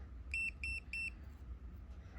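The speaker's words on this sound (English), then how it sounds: "It turned green and it beeped." Three short, evenly spaced high electronic beeps from a Defender SE trigger lock, close and clear, followed by faint background hum.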